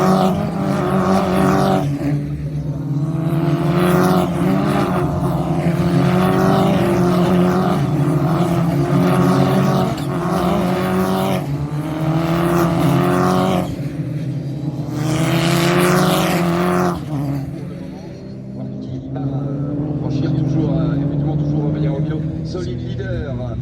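Race cars racing at the Nogaro circuit, engines roaring past in loud rising and falling waves as they accelerate and shift, with a commentator talking over the sound throughout.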